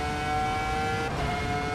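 Ferrari F2004 Formula One engine in a racing simulator game, driven on the Nürburgring, a steady high-pitched engine drone with a slight shift in pitch partway through, loud and close with no talking.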